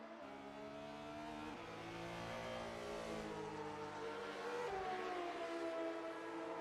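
A BMW race car in a sim racing game at Sebring approaches and passes, its engine a rising and falling howl that sweeps in pitch with gear changes, fairly quiet and heard alone.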